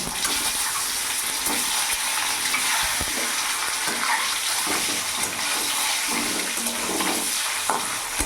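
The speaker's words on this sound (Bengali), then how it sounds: "তেল গরম হয়ে গেছে, এরই মধ্যে আমি এখানে হাফ চামচ লবণ দিয়ে দিলাম আর সামান্য অল্প হলুদ দিয়ে দিলাম। এরই মধ্যে আমি ডিমগুলো দিয়ে দেবো।" Duck eggs fry in hot oil seasoned with salt and a little turmeric, giving a close, steady sizzle with occasional sharp spatters and no talking.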